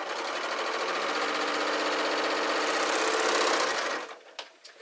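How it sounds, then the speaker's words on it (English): A sewing machine stitches a fabric belt closed with a loud, rapid, steady mechanical chatter for about four seconds, then stops with a few soft clicks and handling sounds. "I'm going to go ahead and make sure that I completely sew this shut"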